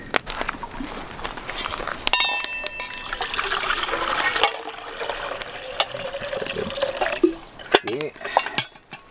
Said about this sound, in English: We're gonna boil some water for some tea.